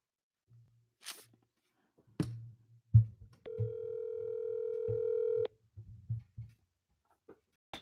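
A telephone dial tone hums steadily for about two seconds during a call to a property seller, framed by clicks, taps and handling noises before and after.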